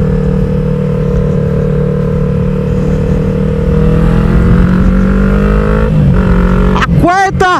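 A Yamaha MT-03 motorcycle engine pulls hard in third gear at highway speed, its tone rising steadily under wind rush. Near the end it drops as the rider shifts or eases off.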